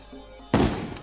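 A Terraria gun fires three bullets at once as one sudden, loud, punchy thump after a short quiet lead-in, then fades quickly.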